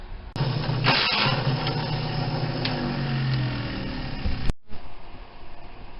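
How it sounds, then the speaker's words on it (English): A power drill bores a hole through the top piece of a metal bracket for a 1972 Chevy truck CB radio mount, with a sustained close motor whine and grinding that stops briefly, then resumes more quietly. "now I just got to drill a hole right in the middle of that top piece"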